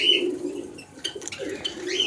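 Java sparrows fresh from a bath in sunlight chirp and coo in short, fairly faint calls, with light flutters between them and no talking.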